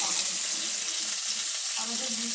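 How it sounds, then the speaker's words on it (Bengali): A paste of ginger, garlic and green chili sizzles and fries in a pan at home, a steady close hiss throughout with no break. "আদা, রসুন, কাঁচা লঙ্কা বাটাটা ফ্রাই করে নিলাম।"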